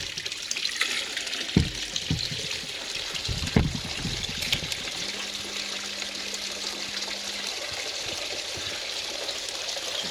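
Water trickles and splashes steadily, washing duckweed debris down into a whirlpool bottle, with a couple of louder knocks and a faint hum, close and alone.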